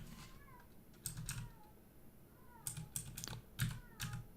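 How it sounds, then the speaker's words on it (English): A cat meows faintly from outside a window while a computer keyboard is typed on up close in bursts, the brief rising cries sitting softly beneath the louder clacking keys. "Seems to be a cat right outside my window. Upset about something."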